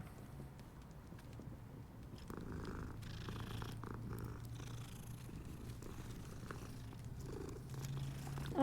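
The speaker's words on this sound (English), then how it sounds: "Oh my goodness, it's a kitty cat." A cat in Hogwarts Legacy purrs in a low, continuous rumble that grows slightly stronger partway through, close by and unaccompanied by speech, with faint soft shuffling in the background.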